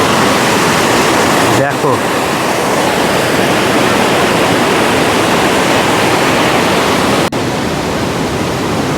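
Devkund waterfall in monsoon roars as a loud, dense, unbroken wash of rushing water close by, with a brief spoken word over it.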